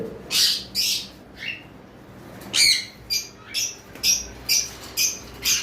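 Cockatiels in a breeding pair kept for sale squawk in a series of sharp, loud calls, about ten bursts in irregular rhythm, close by, with no talking.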